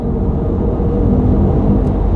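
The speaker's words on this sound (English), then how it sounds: "You can kind of hear like you got some engine noise" A 2023 Mercedes-AMG EQE electric car accelerating with its AMG Sound Dynamics synthetic engine sound turned to maximum, heard from inside the cabin as a steady low droning hum and rumble with no speech.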